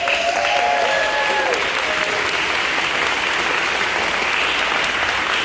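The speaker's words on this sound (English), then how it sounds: "So can we please give her a round of applause just for keeping us out of the rain?" An outdoor crowd at a rainy Fair Maps Day gathering applauds steadily and densely for about five seconds, sustained clapping at an even level with faint tonal traces early on.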